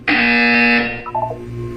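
A loud electronic buzzer in the video game Portal 2, one sustained harsh tone of under a second that cuts off into fainter ringing decay.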